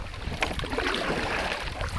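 Canoe paddle strokes through water, soft splashes and swishes over a faint breezy outdoor background.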